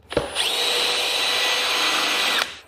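Cordless drill whirring steadily for about two seconds as a screw spins freely in soft plywood, a loud continuous motor whine with a brief click before it starts.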